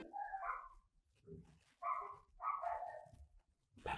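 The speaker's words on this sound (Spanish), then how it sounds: "Sí, hay muchos perros por aquí. ¡Cállense!" Several dogs bark in quick short bursts, some overlapping, fairly close but not loud, with brief gaps between volleys in an outdoor neighborhood setting.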